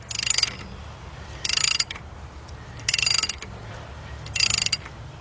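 Puller being tightened by hand to draw the harmonic balancer off a 2003 Jeep Liberty Sport 3.7 engine, giving four evenly spaced bursts of ratcheting clicks, close and moderately loud, with no talk.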